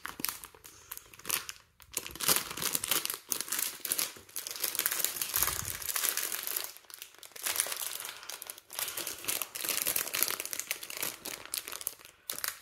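Crinkly plastic pouch from a Mister Donut Pokémon lucky bag being handled and pulled at, giving a long, close, continuous crackling and crumpling with sharper crunches at times.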